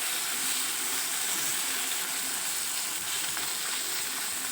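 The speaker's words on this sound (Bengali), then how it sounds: "তেলটা গরম হয়ে গেছে, এখানে আমি মাছগুলো কিন্তু ছেড়ে দিচ্ছি।" Mourala fish fry in hot oil, giving a steady, loud, dense sizzle and crackle that holds evenly throughout with no pauses and no voices.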